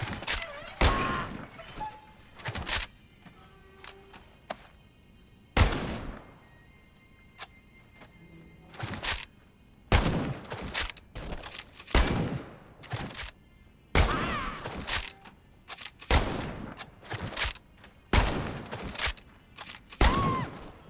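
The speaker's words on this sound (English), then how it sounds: "it can be slam-fired by holding it two-handed while keeping the trigger squeezed" Rapid slam-fired gunshots from a lever-action shotgun in the World War II shooter Medal of Honor: Above and Beyond, sharp loud blasts in uneven bursts with brief gaps, some followed by ringing tails.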